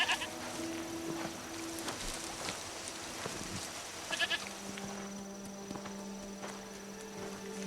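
A goat bleats a few times in short wavering calls over a quiet outdoor background with faint insect chirping, the cries fairly close and separated by pauses.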